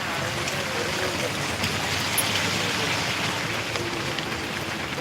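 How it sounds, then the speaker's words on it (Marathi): Steady rain pours outdoors as a broad, even hiss that holds constant for several seconds, loud and close, with faint voices barely showing beneath it. "इकडे पाऊस आहे दादा आवाज जात नाही तिकडं पावसानं"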